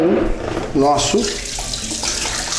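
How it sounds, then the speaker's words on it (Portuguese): A kitchen tap runs steadily over cured salmon to rinse off the excess salt, a broad close hiss of flowing water heard beneath a person talking. "E agora eu vou aproveitar e vou dar uma lavada para tirar o excesso de sal que ficou nele"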